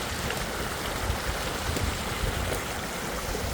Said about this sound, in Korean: 지금 힘차게 개울물이 이렇게 내려가고 있습니다